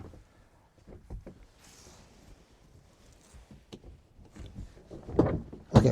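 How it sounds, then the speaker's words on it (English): A Honda Pilot door with a broken lock is worked open with faint clicks and rattles, then a couple of louder clunks near the end as the latch releases, all fairly close and quiet. "Okay, I got the door open."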